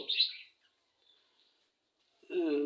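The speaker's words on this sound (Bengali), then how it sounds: "আজকে আপনাদেরকে আমার বাজরিগা পাখিগুলা দেখাবো" Pet budgerigars giving a couple of short, bright chirps near the start and again at the end, with a quiet stretch between them.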